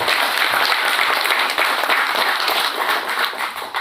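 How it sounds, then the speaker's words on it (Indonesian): Steady applause from a crowd at a PSI political party event, dense clapping holding at an even, loud level for the full stretch with no voices standing out. "Ini barangkali suatu aplaus buat PSI ya."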